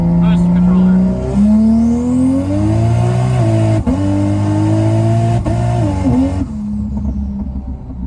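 Turbocharged Lexus IS300 accelerating hard, the loud engine note climbing steadily through gears with brief stutters as boost cut hits, heard close from inside the car before the sound drops away.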